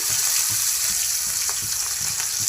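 Mustard seeds, cumin, asafoetida and finely chopped green chili sizzling in hot oil, a steady loud hiss with crackling pops throughout.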